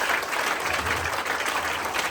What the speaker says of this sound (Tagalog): Yung malakas naman na palakpak, mga kapatid.